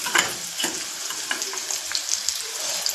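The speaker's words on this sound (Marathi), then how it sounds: "तेल गरम झालं का मग आपण हा कांदा टाकायचा." Finely chopped onion sizzling and crackling in hot oil in a pan, a steady close frying hiss with small pops and stirring scrapes.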